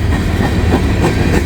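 A freight train with a distributed power locomotive rolls past in the rain, loud and close, with a heavy low rumble and steady clickety-clack of wheels over rail joints.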